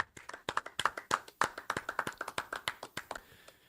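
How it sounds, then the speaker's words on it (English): Rhythmic clapping from an audience at a scripture class, sharp claps in a steady, slightly uneven beat, moderately close, with no talk over it. "let's clap it up"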